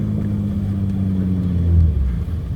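A BMW E39/E46 M54 inline-six idles through its muffler after new piping, a close, steady low rumble with a slight rise in the middle.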